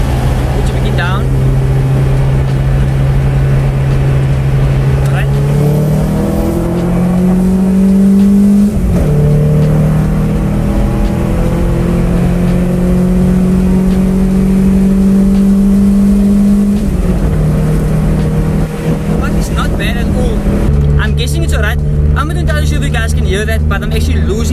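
A car with a 2-litre 8-valve crossflow engine fitted with individual throttle bodies revs hard at high RPM, loud and close, with the steady engine tone stepping up and down through sustained pulls and a drop near the end.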